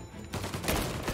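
Rapid gunfire bursts from the video game Mafia Definitive Edition, a dense fusillade of close, loud shots running continuously with no pauses.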